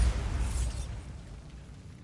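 Bombarda blasting spell going off in a video game, a loud low boom at the start that rumbles and fades away over about two seconds, with no voices.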